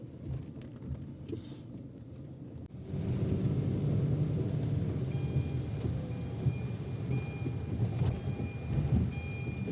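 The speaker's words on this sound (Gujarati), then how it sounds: "અત્યારે પણ વરસાદ ચાલુ જ છે" Rain falling during a night car drive in Ahmedabad, a steady rushing wash of rain and road noise inside the car that swells louder after the first few seconds and stays even.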